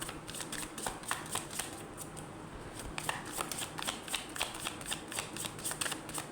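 Tarot cards being shuffled by hand, a rapid series of crisp riffling flicks and soft slaps repeating close up, with only faint background between the bursts.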